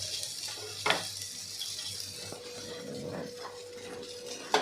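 Coconut and coriander seeds being stir-roasted in a pan, with a faint sizzle under scattered clinks and scrapes of a spoon against the metal, close and without talk.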